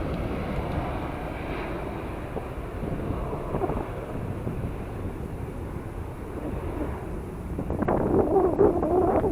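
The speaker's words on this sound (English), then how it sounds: "That has probably got to be the longest takeoff roll I've ever seen." Distant rumbling roar of an airplane on its takeoff roll at Southampton airport, a steady low wash with wind buffeting the microphone, growing slightly louder toward the end.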